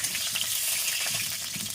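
Potatoes fry in a pan for chicken curry while a spoon stirs them, giving a continuous close sizzle with soft scraping and shuffling throughout.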